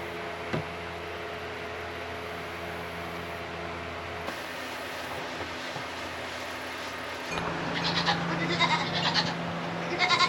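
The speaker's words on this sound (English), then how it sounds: "That's a wether. And if you're not familiar with what a wether is, it's a castrated male goat." Goat bleating on a homestead, a wether (castrated male goat), heard as a faint call early on amid steady background hiss, with busier, louder farmyard noise in the last few seconds.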